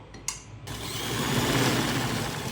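A sewing machine runs continuously, stitching a lace patti onto fabric, with a steady, fast mechanical whir that starts after a brief clunk and carries on close and moderately loud with no talking.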